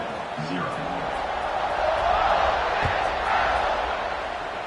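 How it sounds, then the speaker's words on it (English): Stadium crowd in the College Football 26 video game roaring during a kickoff at Ole Miss, a continuous wash of cheering that swells midway, with a commentator's voice over it. "this crowd is feeling themselves after that last drive"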